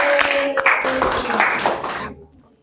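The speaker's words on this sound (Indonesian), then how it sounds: "Berikan aplaus, tepuk tangan dulu untuk teman kita ya" Classroom students clapping in a burst of applause, dense hand claps with voices mixed in, fading out after about two seconds.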